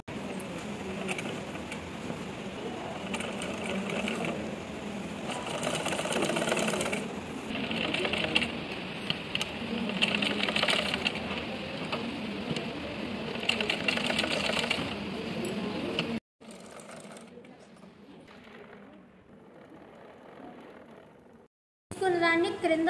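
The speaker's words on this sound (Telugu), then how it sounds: "ఇప్పుడు దీని మీద మళ్ళీ ఇంకొక టాప్ స్టిచ్ వేసుకోవాలి." A sewing machine top-stitches an Anarkali frock in steady running bursts, loud and close, with brief pauses and a quieter stretch near the end; a voice talks over parts of it.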